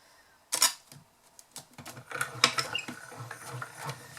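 A craft die-cutting machine cranks a card through its rollers, giving a run of mechanical clicks and ratcheting rattles with a sharp burst near the start and steady uneven clatter after, close by with no talk.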